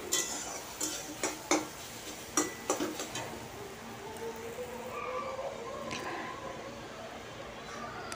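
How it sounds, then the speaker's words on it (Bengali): A spoon stirs and fries a thick pumpkin paste filling in a pan, scraping with a few sharp taps and clicks early on, then a softer squishy sizzle while someone talks. "দিয়ে এটাকে আমি আবারও ভেজে নেব"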